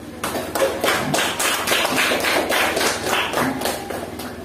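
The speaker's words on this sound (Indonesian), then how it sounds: "boleh kasih aplaus, nak?" A classroom of students claps in applause, with rapid, fairly loud claps running steadily for several seconds and then tapering slightly toward the end.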